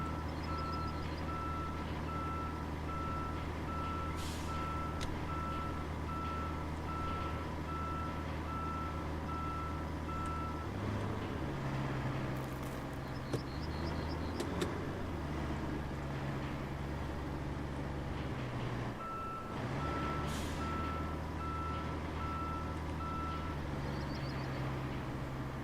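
A truck in the video game Roadcraft sounds a steady run of reversing beeps over its continuous low engine drone for nearly half a minute, with the engine note shifting midway.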